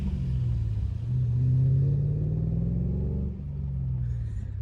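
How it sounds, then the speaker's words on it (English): A Holden VT Clubsport 5.0-litre V8 rumbles steadily up close, its deep idle rising briefly in pitch as it revs gently, then settling back to a low burble. "The old Holden 5-litre. Just sounds great."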